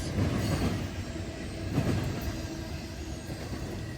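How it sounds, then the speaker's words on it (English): A short Norfolk Southern eastbound intermodal train rolls past nearby, its wheels clattering and rumbling steadily over the rails with faint squeals, heard alone without talk. "That's a short train right there."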